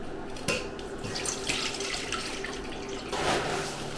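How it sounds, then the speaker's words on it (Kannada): Water is poured for cooking, about two litres going into a pot for a sugar syrup, a steady splashing stream close by with no talking. "ಸೊ 2 ಲೀಟರ್ ನೀರು ತಗೊಂಡಿದ್ದೀನಿ"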